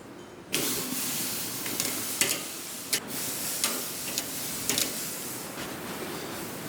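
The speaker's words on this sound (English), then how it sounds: "we're just gonna get these pork steaks on and get a good sear" Thick pork steaks hit a hot BBQ grill over direct heat, starting a sudden loud sizzle that hisses steadily with scattered pops and crackles.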